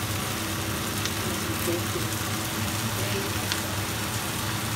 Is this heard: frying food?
yes